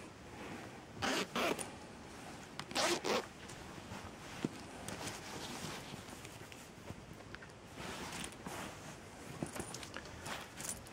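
A double zip on the rear pocket of a fleece hoodie being pulled open and closed in several quick, close, rasping bursts with quieter handling noise between them.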